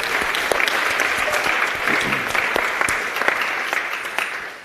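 Audience applause at a string theory physics conference after a short talk, steady dense clapping from a sizeable crowd filling the room for several seconds with sharp individual claps poking through.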